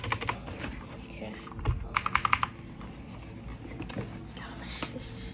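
Typing on a Motospeed CK61 mechanical keyboard, a short burst of quick clacky keystrokes up close after scattered taps, over a low room hum.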